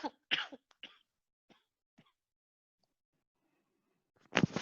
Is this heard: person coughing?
yes